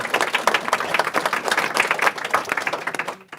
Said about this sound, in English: So now, an applause for our panel,